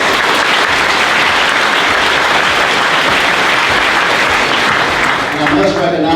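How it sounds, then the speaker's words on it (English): Loud, dense applause from a large crowd at a hall of fame induction ceremony, sustained and even throughout, with faint voices mixed in beneath the clapping. "Let's give them a round of applause."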